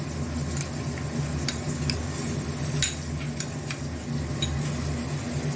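Katla fish pieces frying in oil and being turned over, a steady close sizzle with sharp clicks and scrapes of a utensil against the pan at uneven intervals.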